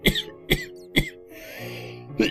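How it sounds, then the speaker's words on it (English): A man coughs during a Minecraft gaming session: three sharp, close coughs in quick succession, then a rougher throat-clearing rasp and one more cough at the end. "Sorry, I have to cough again,"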